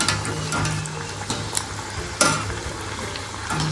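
Fasting paratha vadas frying in hot oil, a loud, continuous close sizzle with occasional pops and a brief clink, no talking.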